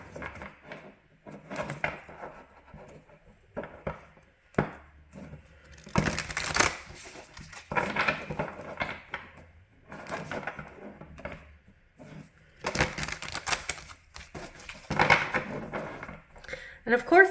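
Tarot cards being shuffled in repeated bursts of soft riffling and flapping, with short pauses between rounds, close and fairly quiet, in a basement.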